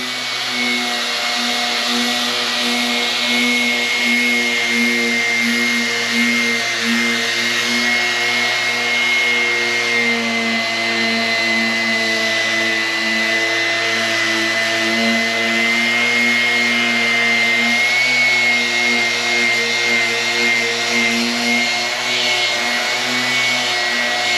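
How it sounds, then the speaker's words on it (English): Steady, continuous whine of a power sander working on the fiberglass body of a 1989 Club Car golf cart, loud and unbroken with a constant droning pitch throughout. "we're gonna continue to kind of sand on that area a little bit"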